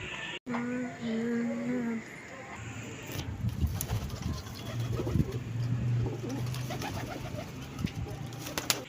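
A golden pigeon coos in a few low, soft, close calls near the start, followed by rustling and handling noises, while someone speaks in the background.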